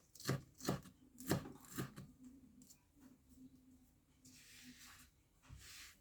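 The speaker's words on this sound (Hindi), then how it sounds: "सेटिस्फाइंग लग रहा है अपनी छुरी से काम करना" A kitchen knife chops green onions and green chillies on a board for pakoras, giving several sharp close knocks at the start, then quieter scattered cuts with soft rustling.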